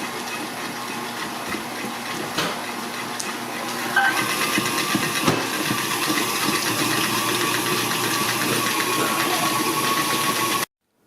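A microwave oven melting white chocolate chips hums steadily for several seconds with a faint whir and a small clunk partway through, then cuts off abruptly.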